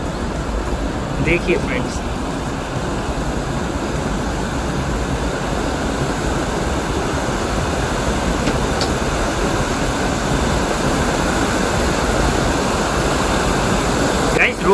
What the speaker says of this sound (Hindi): देखिए कितना सुंदर वाटरफॉल है, आवाज आप सुन रहे होंगे